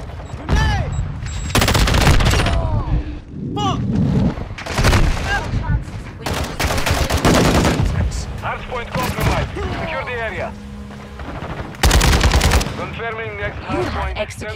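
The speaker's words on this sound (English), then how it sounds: "I'm taking a ton of lead shots." Heavy gunfire in an online shooter match, dense bursts of loud rapid shots and booms coming in waves over several seconds, with game voice lines and chatter mixed in.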